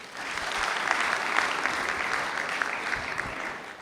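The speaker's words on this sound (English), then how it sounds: "Ladies and gentlemen, let's give them a round of applause." A film and TV market panel audience claps steadily and densely throughout, a sustained wash of applause filling the hall.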